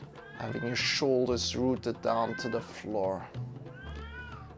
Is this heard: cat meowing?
yes